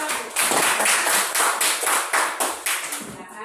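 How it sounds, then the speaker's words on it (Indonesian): Students in a classroom applaud a presenting group, a short burst of rhythmic, fairly crisp hand claps in quick pulses that fade out after a few seconds. "Tepuk tangan untuk kelompok 1."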